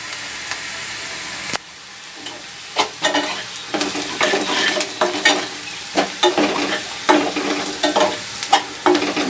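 Cumin powder is stirred into frying onion, ginger and garlic masala in hot oil, with a quiet start, then a steady sizzle and rhythmic scraping strokes of a spatula against the pan, close and fairly loud.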